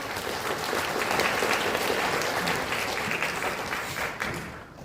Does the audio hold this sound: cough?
no